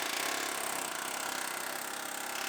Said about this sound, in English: now we're going to air chisel out our tower